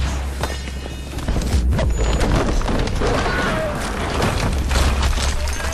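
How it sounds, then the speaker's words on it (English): Dense, continuous roar of heavy booms and crashes, loud and close, layered with rapid impacts like nearby explosions and gunfire in the video game Battlefield: Bad Company 2. "Nearby explosions rock your ears"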